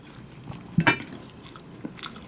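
Close-up chewing of salmon rice with a couple of crisp bites, one prominent crunchy chomp early and softer mastication after, fairly near and with no talk.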